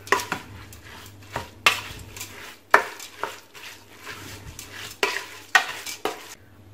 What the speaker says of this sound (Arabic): دابا غادي نخلطوا هاد العناصر